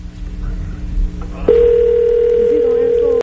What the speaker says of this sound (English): So I'm going to go ahead and dial the number and see if we can reach him.